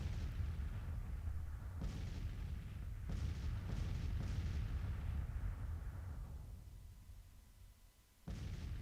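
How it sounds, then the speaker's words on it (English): Artillery fire in the Civil War strategy game Grand Tactician, 10-pound Parrott rifles among the guns: several deep distant booms roll out over a low rumbling battlefield backdrop, with a fresh report near the end. "Artillery has begun the engagement."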